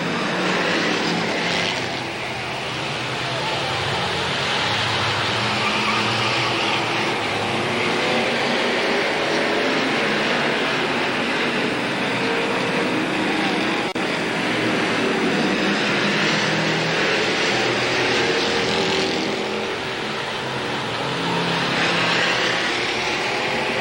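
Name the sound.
Sportsman race cars starting a 10-lap race at Capital Speedway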